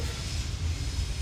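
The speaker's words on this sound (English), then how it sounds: "I think we have a train passing" A train passes near an office, a steady low rumble that holds throughout at moderate distance with no clear voices over it.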